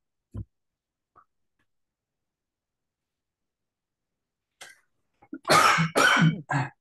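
A person coughs several times in a harsh, close burst near the end, after long near-silence broken only by a couple of faint clicks and a small throat sound.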